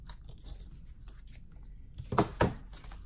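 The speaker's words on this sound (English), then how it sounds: "So I'm just going to trim that off." Scissors trimming excess paper from a junk journal page, two quick close snips near the end after quiet rustling.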